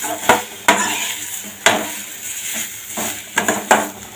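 Dried chillies and radish are stirred in a pan, with sharp metallic scrapes and clanks of the spoon against the pan every second or so, set over a soft background sizzle.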